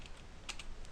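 Quick, light keystrokes on a computer keyboard, a handful of sharp clicks in a brief burst, close and fairly quiet with no talking.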